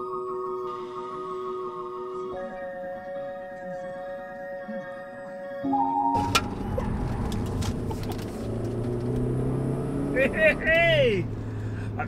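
A Rover 200 BRM hot hatch accelerates hard in second gear round a roundabout, its engine note rising through held tones before a louder, rougher surge of revs, with people talking over it inside the car.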